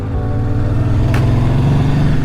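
A 1978 Yamaha XS750 motorcycle engine while riding, a loud steady low drone with a deep throbbing rumble and wind noise, close up and unbroken.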